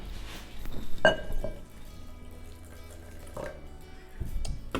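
Warm water is poured onto a cup of oats with a spoonful of whey for soaking, a quiet trickle with glassy clinks from a jar or cup, close and gentle with no talk.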